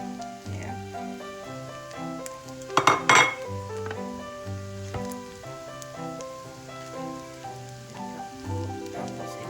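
Broccoli and mixed vegetables are stir-fried in a pan for Filipino fried rice with egg, giving a soft sizzle with loud scraping and clanking of a utensil against the pan, plus a tonal hum in the background.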